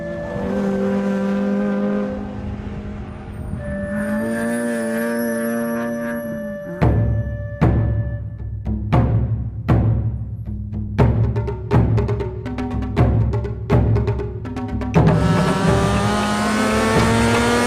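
A Nissan Z sports car on a track revs hard, engine pitch climbing and falling through repeated sharp blips and gear changes, then a long rising pull near the end, loud and close.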